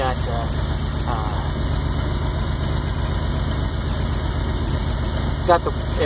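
A van's six-cylinder engine idles steadily with an even low rumble and faint vibration, close by, while a voice speaks intermittently over it.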